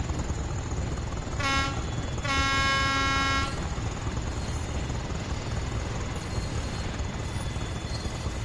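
A BR Class 20 diesel locomotive departs on the Tees Valley Line in Train Sim World 5, with two short horn blasts, the second longer, over a steady rumbling engine drone.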